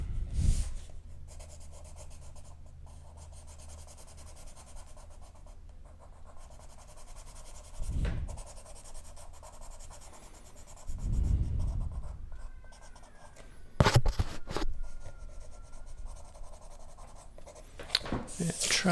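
Pencil shading pressed hard on paper with dark ebony graphite makes a faint, steady scratchy rubbing across the clip, with a few louder strokes and bumps along the way.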